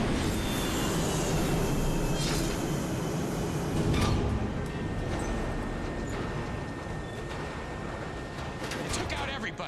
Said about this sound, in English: Incoming aircraft entering Bravo airspace.